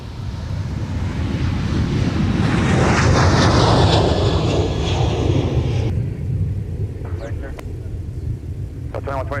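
An American Airlines jet on final approach to a runway at Minneapolis-St. Paul airport roars steadily and loudly, swelling then easing, with wind buffeting and radio chatter under it.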